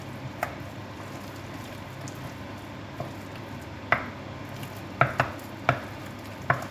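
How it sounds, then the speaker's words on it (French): Thick choux pastry dough being stirred hard in a saucepan, a steady low scraping and squelching close by, broken by scattered sharp knocks of the spoon against the pan toward the end, with no talking. "On insiste, on mélange."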